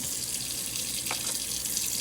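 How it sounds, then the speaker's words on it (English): Running tap water is poured into the corners of a pan of cinnamon-coated sweet potatoes for candied yams, a steady hissing flow heard close and alone for about two seconds. "Add your 1 tablespoon of water in each one of the corners of the pan."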